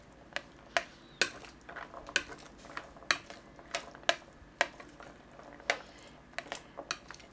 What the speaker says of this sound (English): let's give a toss to our salad